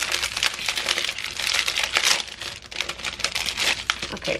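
Plastic wrap being peeled off a box of 100 small black envelopes, a dense, continuous crinkling and crackling close to the mic that keeps going for several seconds with no talk.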